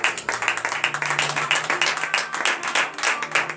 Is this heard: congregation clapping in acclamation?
yes